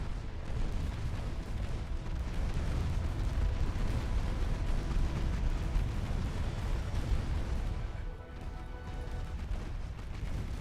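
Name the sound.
torpedoes exploding in video game Ultimate Admiral Dreadnoughts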